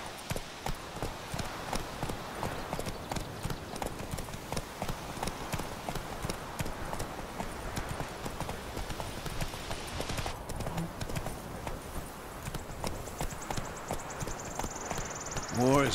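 Steady rhythmic horse hooves clip-clop at a walk in The Witcher 3 on Xbox Series S, close and continuous, with spoken game dialogue over the top and a brief shimmering effect at the end.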